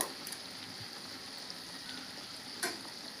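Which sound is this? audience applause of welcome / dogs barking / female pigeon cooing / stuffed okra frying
stuffed okra frying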